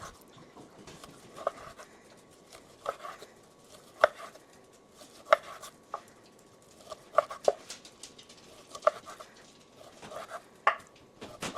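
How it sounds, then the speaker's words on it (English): A knife slices beef tenderloin into thin strips on a cutting board, producing soft, fairly regular chopping taps roughly every second, close and clear against a quiet background. "I'm just going to be cutting this into about 1/4 inch width"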